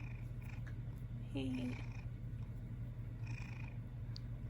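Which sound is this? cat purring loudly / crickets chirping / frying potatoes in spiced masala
cat purring loudly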